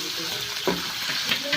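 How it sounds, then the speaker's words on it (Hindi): Ginger sizzles steadily in hot ghee in a pan with a soft, continuous crackle, a few sharper bursts popping up as it is stirred in. "अदरक का तड़का लगाते हैं।"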